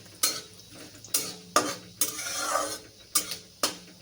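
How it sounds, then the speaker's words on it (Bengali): Bengali five-spice seeds (panch phoron) sizzle in hot oil, broken by about six sharp, close stirring scrapes of a utensil against the pan at an uneven rhythm, with no talking. "এটা আমি দিলাম হচ্ছে 5 ফোড়ন।"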